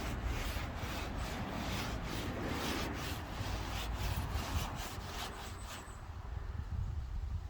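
A steady scratchy rubbing sound of a clay bar dragged back and forth over car paint continues close-up with rhythmic strokes and then eases off.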